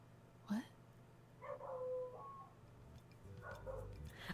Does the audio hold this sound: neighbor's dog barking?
yes